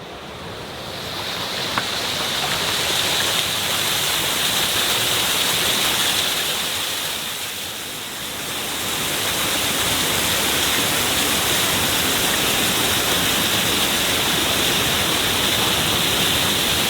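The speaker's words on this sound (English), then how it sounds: "But then you got a waterfall at the same time and it streams down and this stream leads directly into the ocean." Waterfall streaming down into a stream that runs straight into the ocean beside a beach, a steady, loud rushing wash of water that dips briefly midway and then continues alone, with no voices.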